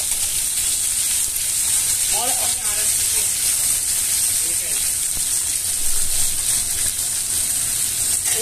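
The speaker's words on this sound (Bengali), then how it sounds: "পেঁয়াজটা দিয়ে পেঁয়াজটাও আমি লাল করে ভেজে নিচ্ছি।" Chopped onions fry in hot oil for an egg curry masala, giving a steady, close sizzle and hiss that runs throughout with faint stirring.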